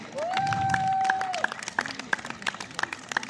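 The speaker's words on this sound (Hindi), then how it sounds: "जोरदार तालियां" Applause from a school crowd at an athletic meet's closing ceremony. Scattered claps and crowd noise sit under a long electronic tone, then thin into sparse, uneven individual claps.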